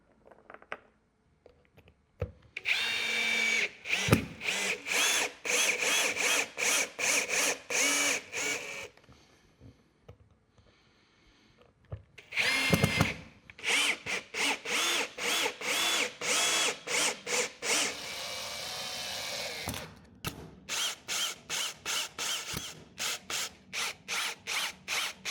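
A power drill drives mounting screws into blocks during a toilet installation. It whirs in short, stuttering bursts across several runs, with pauses between them and a ratcheting clutch chatter, close up and loud.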